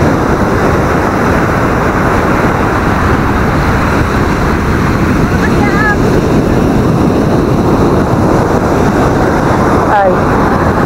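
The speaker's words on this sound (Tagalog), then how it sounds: "Laki ng alon." Big ocean waves break on the shore at a La Union beach, a continuous loud roar of surf and wind buffeting the microphone throughout.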